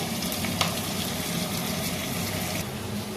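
Jiol fish fry in hot oil in a pan, giving a steady close sizzle and crackle that runs without a break and carries a few sharper spits.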